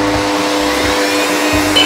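Electric mixer whirring steadily as it beats butter, sugar, milk and vanilla extract into a creamy batter for cranberry muffins, a loud continuous motor drone close by with slight pitch shifts as the beaters move through the bowl.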